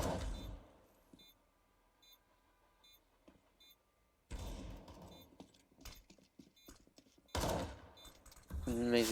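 Counter-Strike match gunfire comes in sharp, loud bursts after quiet stretches, with rapid rattling volleys near the middle and again toward the end, along with faint in-game beeps.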